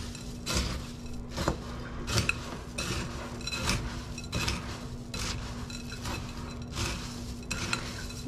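Turkey stuffing with carrots and butter being stirred in a bowl, repeated scraping, clinking and soft mixing strokes in a steady rhythm, close and fairly loud, with a faint steady hum beneath.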